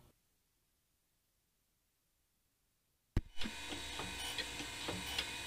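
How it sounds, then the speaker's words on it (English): A surface grinder, after three seconds of near silence, starts up with an abrupt burst and settles into a steady, hissing, scraping grind against a workpiece with small irregular ticks. "So this is the initial grind. The initial grind to get a baseline."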